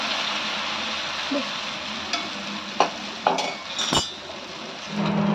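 Wheat-flour malpua batter fries in a hot pan with a steady close hiss, broken by a few clinks and scrapes of a utensil and a brief louder sizzle at the end.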